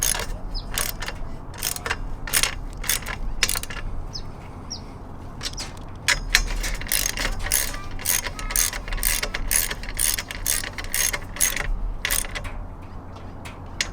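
Mounts for a shower tent awning are tightened on the roof rack of a 100 Series Land Cruiser, giving a series of sharp, close ratcheting clicks in quick bursts with short pauses between them.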